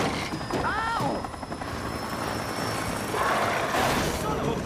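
Helicopter in the video game Control Resonant, a steady rotor drone under a person talking, with game sound effects and voice sweeps layered over it.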